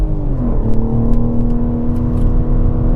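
A 2021 BMW G82 M4 with its twin-turbo inline-six holds a steady, loud engine drone, pitch settling after a brief rise, heard from inside the car with faint road rumble and no voices.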